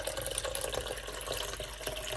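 Tap water rushes steadily into a bottle being filled toward a liter, a continuous, close, fairly loud flow with no pauses.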